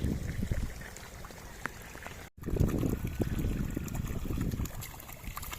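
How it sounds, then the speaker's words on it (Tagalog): Water gushes and splashes steadily with a broad rushing texture while watering an azolla pond, briefly cutting out near the middle before resuming just as strongly. "Malakas yung tubig natin."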